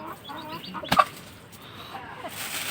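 Laying hens on a poultry farm at night give a few scattered soft clucks over quiet background noise, with one brief sharper call near the start.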